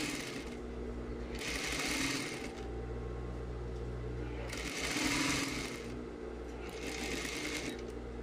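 A sewing machine runs in three bursts, about a second long each, as it joins fabric pieces along a one-centimetre seam allowance, with a steady low motor hum between the bursts.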